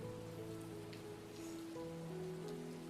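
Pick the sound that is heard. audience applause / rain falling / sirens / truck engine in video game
rain falling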